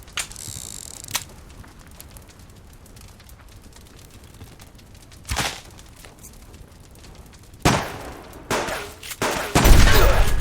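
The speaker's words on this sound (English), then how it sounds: "Firing directly at him" Sporadic gunfire in a war video game, with isolated sharp shots separated by quiet stretches and then a louder cluster of bursts near the end, mixed with mechanical clicking.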